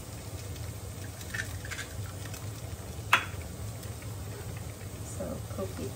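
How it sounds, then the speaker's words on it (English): Egg sizzles in a hot pan while cooking for Thai tom yum fried rice, a soft steady crackle with a sharp clink of a utensil partway through, a voice speaking faintly underneath. "You should put egg in fried rice"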